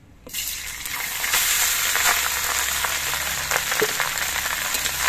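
Cooked rice tipped into hot ghee with fried garam masala, bursting into a loud, continuous sizzle right after a brief quiet start, crackling close by with small pops throughout.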